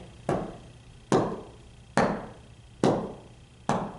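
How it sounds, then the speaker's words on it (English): Feet stomp hard on the floor during a chair aerobics workout: five heavy, evenly spaced thuds, each booming impact followed by a short decaying rumble. "press those feet on the floor as hard as you can and with as much power as you can"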